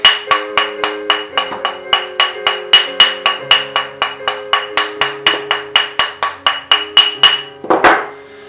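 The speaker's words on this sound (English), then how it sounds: "from here we're just going to hammer out all the slack" Rapid, steady metallic hammer taps ring out close up, about three per second, each strike a bright clink on metal, ending with a rougher scrape.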